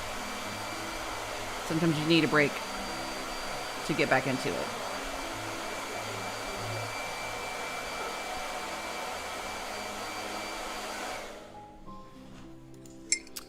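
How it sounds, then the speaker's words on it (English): A blow dryer runs as a steady loud whir for most of the stretch, then cuts off near the end, with someone talking briefly over it early on. "I gotta do a blow dryer."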